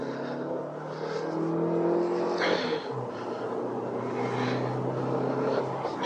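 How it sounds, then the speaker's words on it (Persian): A Fidelity car engine with a new gearbox hums steadily and climbs in pitch as it accelerates, heard from inside the cabin with road noise underneath, air conditioning off. "یه شتابگیری داشته باشیم"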